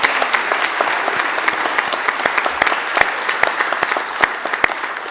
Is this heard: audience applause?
yes